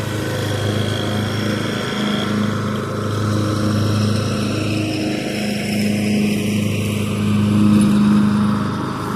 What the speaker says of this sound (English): So we will get to hear a close-up of the lawnmower.